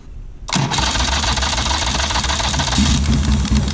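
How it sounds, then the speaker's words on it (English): Starter on a 1995 Harley-Davidson Softail with an Evolution engine, after a solenoid rebuild, cranking hard and catching into a loud, steady, close-up mechanical churn that runs without pause and without talk. "So let's see how the starter works,"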